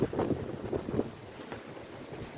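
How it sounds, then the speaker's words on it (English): Gusty wind buffets the microphone in low, rough bursts, strongest at the start and then settling into a steady rush. "The wind is blowing like crazy. Really, really windy."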